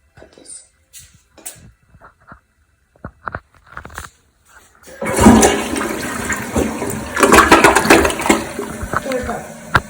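A Kohler toilet flushes with a loud, close rush of water that starts after a few seconds of small clicks and handling noises and then gurgles steadily to the end.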